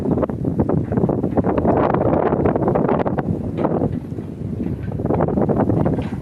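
Strong gusting wind with rain roars against the microphone outdoors, a dense, continuous rush with surges and brief dips.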